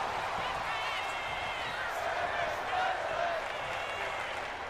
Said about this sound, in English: We can hear the crowd in appreciation for what they're seeing.